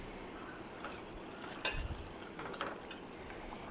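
Egg gravy masala simmers and boils in a covered pot, a soft, continuous bubbling hiss with a few slightly louder pops.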